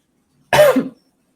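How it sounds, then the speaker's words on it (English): A single short, close cough from a man. "Sorry if I cough, guys."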